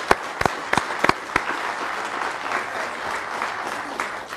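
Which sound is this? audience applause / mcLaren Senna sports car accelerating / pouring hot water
audience applause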